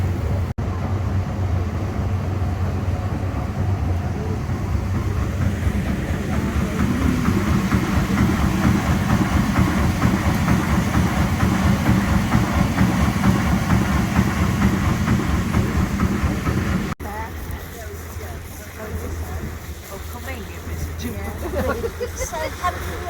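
Steam engine of the Sir Walter Scott steamboat on Loch Katrine, Scotland, running with a steady rhythmic mechanical chugging and low hum, fairly loud and continuous, with people talking over it; the sound shifts and thins near the end.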